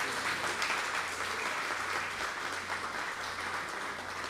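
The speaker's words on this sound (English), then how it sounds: "Let's give them a wonderful round of applause." An audience at an International Education Day ceremony gives a steady round of applause, a dense, even patter of many hands clapping, heard faintly from a distance without talk.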